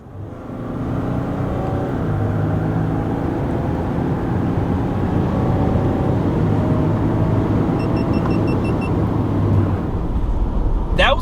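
A 2023 RAM 1500 EcoDiesel pickup speeds up from 45 mph, its engine holding a steady, loud drone with road and wind noise for about ten seconds before a brief clatter at the end.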